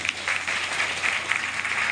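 Audience applause at a farewell event for a retiring schoolteacher, a steady, dense clapping wash that continues through the whole stretch at moderate loudness with no voices over it.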